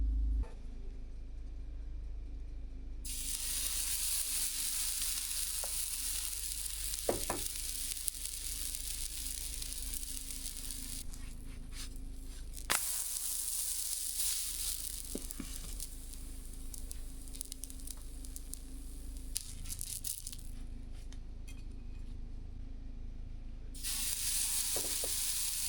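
Pancake batter sizzling in a cast iron pan, a steady close crackle and hiss that runs continuously with faint pops and clicks, briefly dipping and returning, no talk over it.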